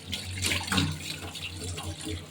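Water poured generously over a hot item to cool it, a steady splashing rush lasting throughout, with a low hum underneath and no talking.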